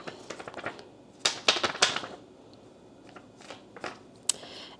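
Thin, printer-paper-like prints handled close up, crisp rustling and flicking with quick clustered bursts, then quieter pauses and a sharp final snap.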